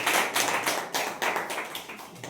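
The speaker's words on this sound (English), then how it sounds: "So clap for Rishabh effort." A class of schoolchildren claps for a young student after his speaking turn, a short burst of fairly loud, uneven hand claps lasting a couple of seconds and then tapering off.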